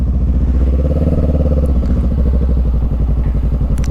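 Motorcycle riding on a road toward a gas station, its engine a loud, close, rhythmic throbbing pulse that holds steady throughout with some wind buffeting.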